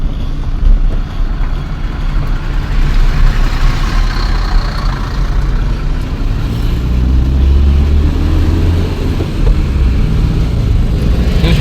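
Car driving along a quiet road at night near a school entry point, its steady low engine and road rumble continuous and fairly loud throughout, with no voices.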